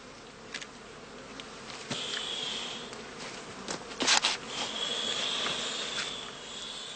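Honey bees buzz steadily around a heather skep in summer, a continuous close insect drone with a few louder passes as bees fly near.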